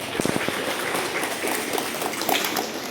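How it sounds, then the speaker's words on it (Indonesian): Parents and students applaud at an elementary school graduation ceremony, a soft, steady patter of many hands clapping in a large room, moderately distant and without talk. "Tepuk tangan tuh"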